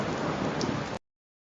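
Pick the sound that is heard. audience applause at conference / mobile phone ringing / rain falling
rain falling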